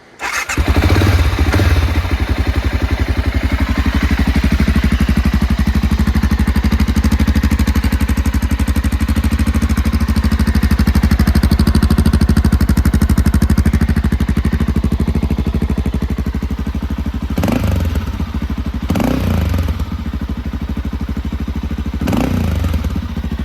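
BMW F650 motorcycle engine cranks and catches, then settles into a loud, steady, close idle with a rapid even pulse, a few thumps and clunks near the end over the running engine.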